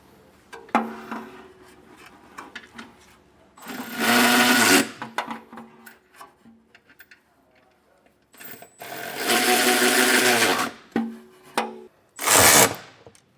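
A power tool snugs down the bolts of a Class III trailer hitch on a 2025 Kia Telluride. It runs in three loud, buzzing bursts of a second or two each, separated by quieter handling clicks.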